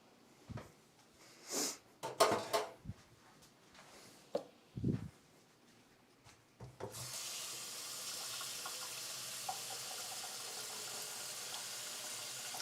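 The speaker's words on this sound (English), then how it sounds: "So let's go get some slightly warm water to add to this." A kitchen tap runs slightly warm water for pizza dough, beginning as a steady, strong gush about halfway through after a few scattered handling noises and sniffs.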